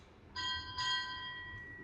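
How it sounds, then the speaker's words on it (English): A ship's bell struck twice at a Navy retirement ceremony, two bright ringing strikes close together that leave a sustained metallic tone decaying in a quiet room. "Strike 2 bells."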